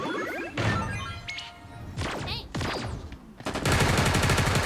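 Gunfire in the mobile shooter game Sausage Man comes in rapid bursts mixed with crashes and other game effects, building into a loud, sustained volley at the end.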